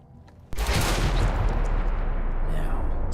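A single sharp gunshot in the video game Alpha Protocol, fired as a slow-motion headshot execution, bursts in loud and close, then rolls into a long, heavy reverberant tail with no talk.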